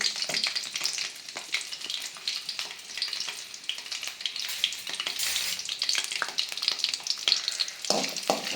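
Small shallots sizzle and crackle steadily in a hot pan, a bright continuous frying hiss with occasional stirring scrapes, close and alone without talk.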